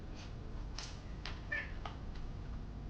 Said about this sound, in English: See, these cats are funny.